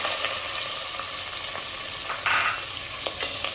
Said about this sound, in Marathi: आता हे चांगलं परतून घेऊ